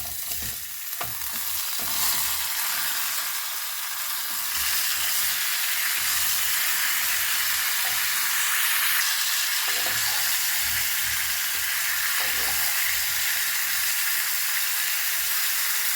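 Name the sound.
salted turmeric mango pieces cooking and stirred in pan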